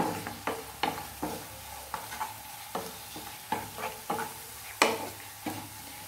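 Sauce mixture for chilli paneer is stirred in a pan with tomato sauce, a steady series of close, sharp spoon scrapes and taps in a loose rhythm over a faint low sizzle, with no talking.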